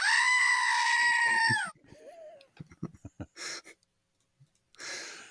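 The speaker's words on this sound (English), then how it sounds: "What does the goat say?" A goat bleats in one long, loud, wavering cry close by, then breaks off into short uneven calls and breathy noises with pauses between them.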